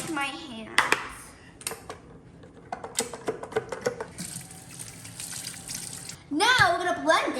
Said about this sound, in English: Now I'm gonna dump this out and wash my hands.